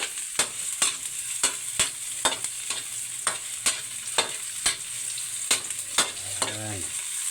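Ingredients sautéing until browned before tomato goes in, a steady sizzle from the pan punctuated by regular sharp spatula strikes and scrapes, with no talking.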